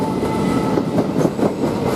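A Southern passenger train runs through Three Bridges station, a loud, close rumble with a rhythmic clickety-clack of wheels over rail joints carrying on steadily throughout.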